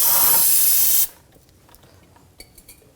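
A close, loud burst of brake parts cleaner sprayed from an aerosol can around the brake area of a 2007-2013 BMW X5, hissing steadily for about a second before cutting off into quiet with faint clicks and tool noises.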